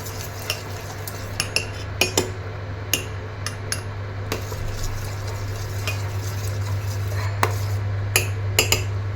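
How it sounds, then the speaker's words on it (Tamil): A spoon scrapes and taps against a pot in irregular strokes over a steady low hum, with faint bubbling underneath. "இது வந்து மிக்ஸ் பண்ணிக்கிட்டே இருக்கணும் இல்லைன்னா அடி பிடிச்சிடும்"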